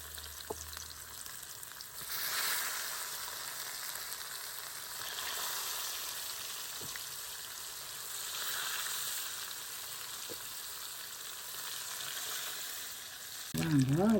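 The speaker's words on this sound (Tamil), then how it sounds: "ரெண்டாம் தரமும் பறித்து இறக்கியாச்சு" Chicken pieces deep fry in hot oil with a soft, even sizzle and bubbling that rises and falls in waves. A brief voice breaks in at the very end.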